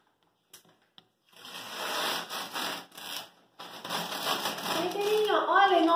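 A vinyl wall sticker is peeled off a painted wall in two long pulls, each a raspy, tearing rustle, and a voice briefly sounds at the end.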